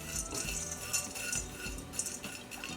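Roasted gram (hurigadle) clinks and scrapes as a utensil stirs it in a warm pan with the gas off, with light repeated metallic taps and rattles at low volume.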